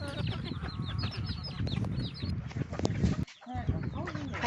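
Several bantam and laying hens cluck and chatter close by on a farm, with busy overlapping calls and a brief quiet gap near the end.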